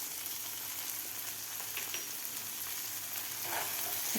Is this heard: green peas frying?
yes